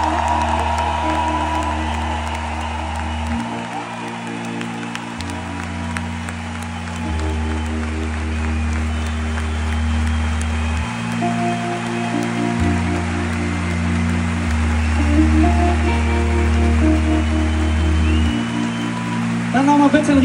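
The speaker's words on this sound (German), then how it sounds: "Und das Schönste, glaube ich, für Sie, ist, dass Sie jetzt euren Applaus, und zwar so laut, wie es geht, hören." A large concert crowd applauds and cheers loudly at an open-air show in Elspe. The dense, steady clapping continues throughout, and a low musical drone with shifting bass notes plays underneath.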